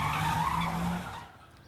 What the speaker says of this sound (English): Vehicles were spinning around a burning car in the middle of the intersection, their tires squealing